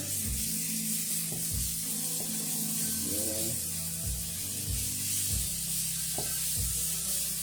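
Raw beef dropping into a hot stir-fry pan, followed by steady sizzling with scattered rubbing and scraping bursts close up, no talking.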